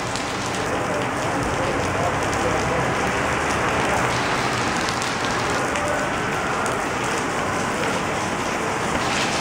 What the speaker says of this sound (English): that was to show you how hard it's pouring